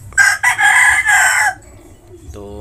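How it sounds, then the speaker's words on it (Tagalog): A talisay gamefowl rooster crows loud and close, one long broken call that lasts about a second and a half. A faint low hum and a brief soft sound follow. "Mataas na manok to mga kamanok."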